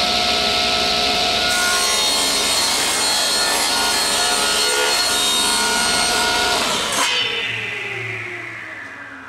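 A power saw cuts wood for a homemade hockey stick, loud and close with a sustained whining rasp, then the blade spins down and fades out at the end.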